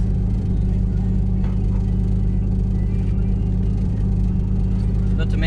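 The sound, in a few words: Nissan R33 Skyline 500HP engine revving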